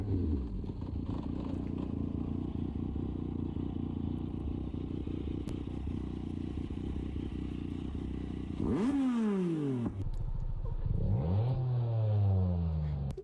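Motorcycle racing at high speed while doing a wheelie, a steady loud engine roar that breaks near the end into sweeping rev surges and passing whooshes.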